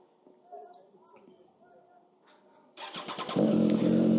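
A motorbike that has covered about 12,000 km under its current owner, heard first through quiet wind and background noise, then a loud, steady engine roar building up as the rider moves off and picks up speed.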